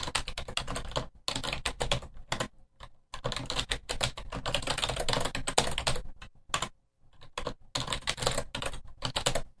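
Rapid clatter of keys on a computer keyboard while a name is typed into a contact form, bursts of quick keystrokes broken by short pauses, close and clear with no talking.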